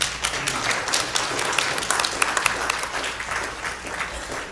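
An audience at a board meeting breaks into sustained applause and cheering, dense clapping filling the room steadily from start to finish, fairly close and loud.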